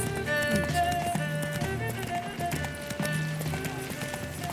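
Hooves of Roach, a horse in The Witcher 3 video game, gallop in a steady clip-clop rhythm, close and clear, over a game music bed with a whinny.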